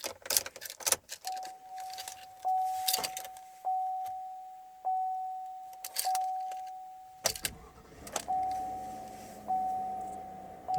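Keys jangle and clatter in the ignition of a 2020 Chevy Silverado LT pickup, close and loud in bursts. A steady chime sounds repeatedly underneath.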